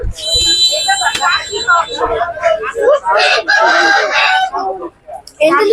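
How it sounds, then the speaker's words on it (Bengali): A desi cock rooster crows loudly and close by during an outdoor picnic, its drawn-out calls rising over steady chatter from people talking throughout. "মুরগি দেশি মুরগি কক মুরগি"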